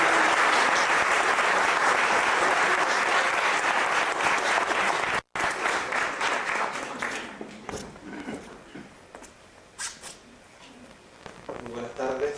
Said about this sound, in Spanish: el señor Carlos Montes Coloma, para quien les pido un fuerte aplauso y yo me despido.